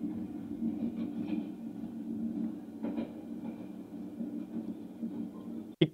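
A train at Katpadi railway junction rumbles low and steady in the background, with faint clanks, a brief sharp knock near the end and no talking.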